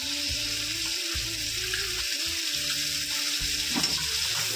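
Tomato puree sautéing in spice paste in a pan, a steady close hiss and sizzle with soft scraping stirs at regular intervals, no talk.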